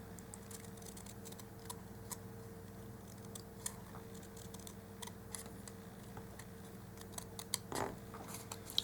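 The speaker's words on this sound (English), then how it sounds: "I think I'm going to use a smaller pair of scissors." Small scissors snip out miniature paper pieces for a dollhouse grocery set, making faint, irregular clicks and short crisp cuts over a low steady hum, with no talk.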